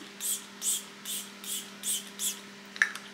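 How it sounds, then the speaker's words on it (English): Setting spray misted onto a face during makeup, five quick hissing spritzes in an even rhythm, close and fairly quiet, followed by a small click. "So what I like to do is spray my face"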